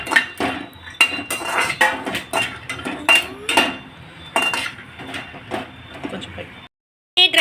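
Coriander seeds dry roasted in a pan for a bitter gourd fry, with close, irregular clattering and scraping of seeds and spoon against metal, and a short silent gap near the end.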